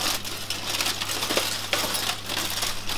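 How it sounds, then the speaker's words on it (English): Tin foil over a dish of oven-baked cauliflower being pulled open, a close crinkling and rustling with a few sharp metallic crackles. "I'm just going to open the tin foil up"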